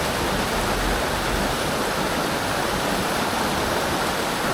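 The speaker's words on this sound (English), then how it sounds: "White water, that's the most oxygenated water they can get into when the water's low" White water rushes through a low, shallow stream in Canton Jura, a steady broadband roar that holds at an even level throughout, with no voices.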